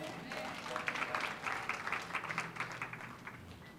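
A church congregation applauding: a steady patter of clapping hands that swells and pulses over a few seconds, moderately distant, with voices mixed faintly underneath.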